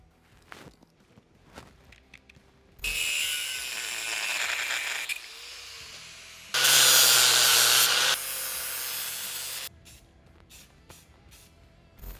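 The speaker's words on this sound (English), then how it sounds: "before we can install it, we have to cut this mount right here off. So let's get that hacked off." Metal tank mount being cut off a motorcycle chopper frame with a power tool, two loud sustained grinding bursts of several seconds each, separated and followed by quieter handling clatter and taps.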